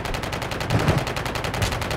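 Gunfire rattles through a wall in the Call of Duty video game, a rapid burst of muffled shots pulsing steadily for about two seconds with no talk over it.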